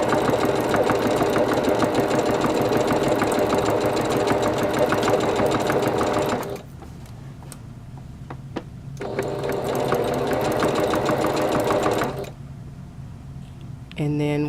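A sewing machine stitches a dress seam in two fast, loud, continuous runs, each about six seconds long, with a quiet pause between them and a short burst at the very end.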